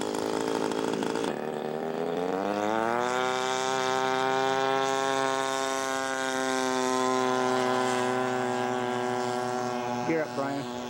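A scale model Corsair aircraft in flight at a model show, its engine holding a steady, loud, droning whine with rising pitch early on, continuous for about ten seconds.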